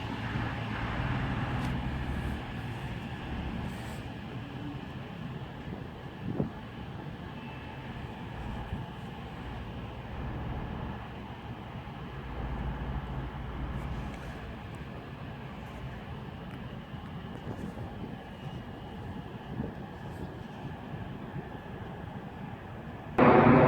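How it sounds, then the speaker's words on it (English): A Northern passenger service from Blackpool North to Hazel Grove pulls into Stockport station on the WCML Manchester branch, giving a steady, continuous rumble and hum of train and rail noise with occasional faint knocks. "arriving in now is going to be the 1335 northern service to Hazel Grove from Blackpool North"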